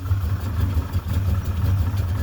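A 1981 Chevrolet Camaro Z28 V8 idles after a cold start on a January winter day with the choke on, a loud, close, steady low rumble with an even pulsing throb.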